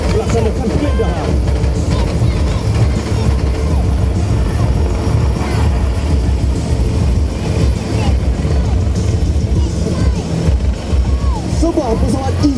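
A Royal Malaysian Air Force EC-725 military helicopter at a special forces maritime demonstration, its loud, steady rotor and engine roar running continuously throughout with no letup.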